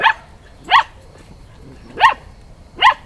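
Four sharp, high-pitched barks from a Turkish shepherd dog puppy on a farm, spaced irregularly, close and clear with nothing else around them.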